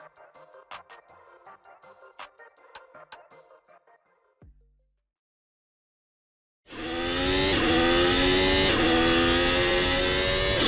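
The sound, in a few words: race car engine on a hot lap, Assetto Corsa video game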